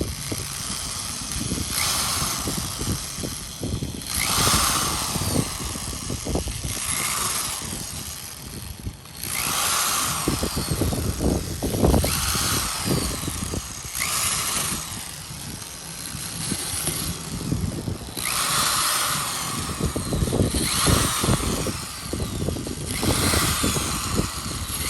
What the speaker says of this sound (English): Each hole is drilled with a 3/16 drill bit